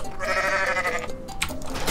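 A single loud, drawn-out goat bleat from Goat Simulator, close and wavering, ending in a few short noisy bursts.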